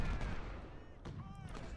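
Cannon fire in the Civil War battle game Ultimate General: Civil War: dense, rumbling bursts of artillery roll through the whole clip, with a sharper blast near the middle, over continuous battlefield din.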